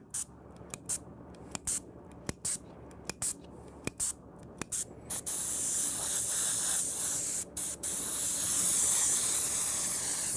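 An airbrush sprays paint during custom art work, with short spurts and bursts at first, then a long steady hiss of fogging paint, close and alone.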